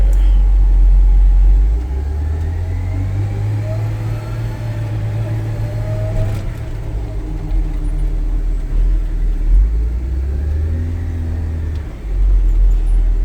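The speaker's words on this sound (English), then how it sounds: "It'll shift through all the gears." Engine of a 2012 Kawasaki machine running steadily, a low rumble that rises and falls in pitch as it shifts through the gears, loud and close throughout with no speech.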